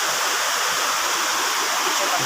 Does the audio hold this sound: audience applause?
no